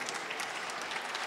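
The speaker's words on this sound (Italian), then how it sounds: "Parisa Bahrami, e voi potete applaudirle" Audience at an award ceremony claps continuously, a dense even patter of many hands at moderate distance with no pauses.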